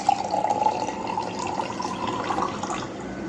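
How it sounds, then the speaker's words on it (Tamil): Lemon juice poured into a glass, a steady close liquid trickle and splash lasting a few seconds without any voices. "நம்ம கிளாஸில் கூட ஊற்றிக்கலாம்."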